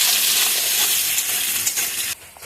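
Onions fry into crisp beresta in hot oil, a loud, continuous hiss and sizzle with faint stirring that drops off abruptly near the end.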